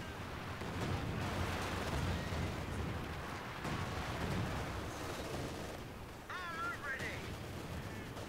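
An artillery strike in the real-time strategy game Company of Heroes 2: a continuous rumble of booming impacts and blasts, with a caster talking over the barrage.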